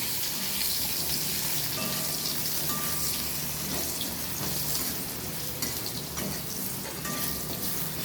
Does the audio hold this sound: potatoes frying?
yes